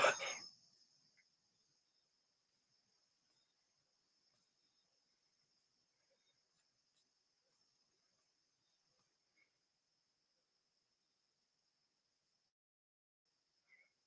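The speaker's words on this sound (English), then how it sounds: "are the crickets a ghost in the machine?" Crickets chirp as a faint, steady, high trill that carries on for most of the stretch after a short thump at the start. A couple of tiny clicks come later; otherwise it is quiet, with no talking.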